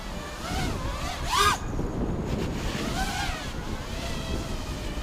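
Strong gale-force wind roars steadily across the microphone outdoors, a loud, constant rush with a brief gust surge partway through and a faint high whine from a Diatone X215 quadcopter flying overhead.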